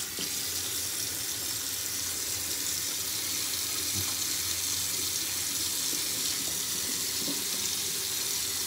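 A bathroom tap runs steadily for face washing before a shave, a continuous close hiss of water pouring into a sink with a few faint clinks, no voices.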